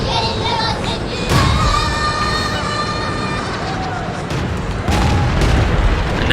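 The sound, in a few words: SU-100 tank gun firing in a video game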